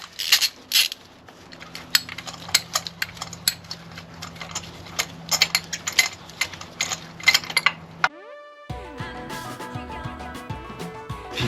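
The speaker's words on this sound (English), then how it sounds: "Get your ratchet and out they come." A ratchet on an extension and spark plug socket clicks in quick, uneven bursts as it loosens spark plugs from a Vauxhall Mokka 1.4 turbo B14NET engine. The clicking is close and continues for about eight seconds before music takes over.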